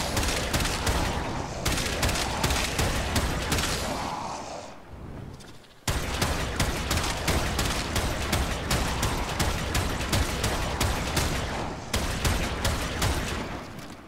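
Vectis Prime sniper rifle in Warframe firing in rapid bursts, a dense, loud stream of sharp shots in quick succession, briefly dropping off near the middle before the barrage resumes at full force.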